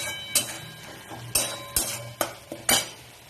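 A utensil scrapes and knocks against a pan while spice masala with turmeric and red chilli powder is stirred and fried for mixed dal, six or so sharp clinks at uneven intervals over a faint background.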